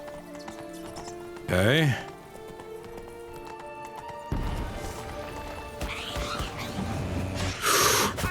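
Roach the horse in The Witcher 3 video game, steady clip-clop of hooves at a gallop, with two loud whinnies and a thud standing out, and a voice speaking briefly.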